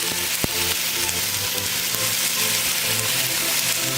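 Garlic and frozen mustard greens stir-fry in a wok with a steady, close sizzle and crackle, broken by occasional scraping and clinks of a utensil moving the food around, with no talking.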